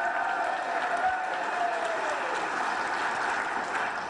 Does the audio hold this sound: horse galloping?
no